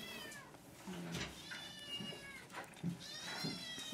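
Sick kittens meow repeatedly at a crowded animal shelter. The cries are clear and high, coming in several separate bursts, with a faint murmur of background noise and a brief spoken word.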